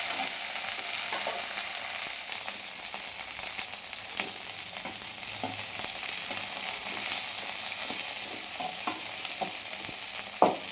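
Cumin seeds frying in hot oil for a Tamil marundhu kuzhambu, a continuous close sizzle broken by scattered sharp pops and crackles of spluttering seeds, with a louder pop near the end and no talking.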